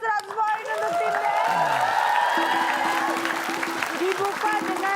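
Studio audience on an Indonesian TV game show breaking into applause, a dense burst of clapping with cheers and whoops, loud and sustained while a host talks over it.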